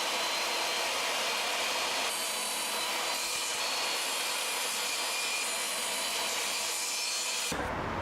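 Wooden cross members for a shot glass display case cut to length, a steady, continuous power-saw whine and rasp that holds for several seconds before stopping abruptly, near and loud with no voices.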